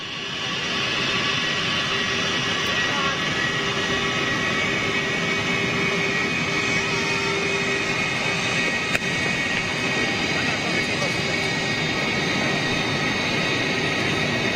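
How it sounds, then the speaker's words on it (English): A Ryanair Boeing 737 jet roars continuously and loudly while landing, a sustained broadband rush with steady engine whine throughout and no talking. "There's another set of mains due on that 737 in time."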